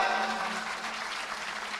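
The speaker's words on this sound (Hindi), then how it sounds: "एक बार जोरदार तालियां" An audience at a devotional gathering with a saint's katha and bhajans claps together in a soft, even burst of applause, fairly distant and steady.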